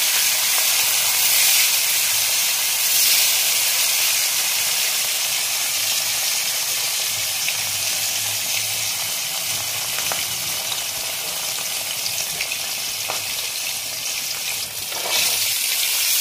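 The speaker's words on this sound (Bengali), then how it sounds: "এবার হলুদ দিচ্ছি। হলুদ দিলাম একটু তেলে" Turmeric and boroli river fish sizzling in hot oil in a pan: a loud, steady, close hiss of frying that continues without a break, with faint stirring scrapes and splutters.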